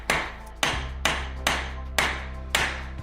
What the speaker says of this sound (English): let's just take this over to our anvil and take a hammer to it and see what that does.